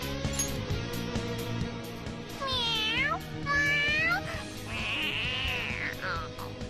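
Morgana, the cat character in Persona 5, lets out several drawn-out, rising and falling meows over steady game music, each cry loud and close, the last one a long sustained wail.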